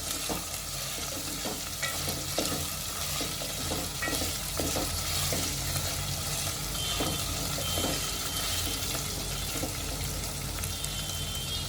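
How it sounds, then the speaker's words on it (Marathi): Peanuts and vegetables sizzle in hot oil in a pan for Khandeshi khichdi, a loud steady frying hiss broken by frequent scraping stirs of a spoon, close up and with no talking. "आणि शेंगदाणे घालून घेते यांना तेलामध्ये चांगलं परतून घेते"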